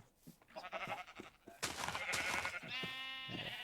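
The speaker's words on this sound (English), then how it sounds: "a sheep pen with plenty of sheep to make these wool walls" Sheep in a Minecraft pen bleat repeatedly, several overlapping bleats close by in an irregular rhythm, the later ones louder and more drawn out, with no talk over them.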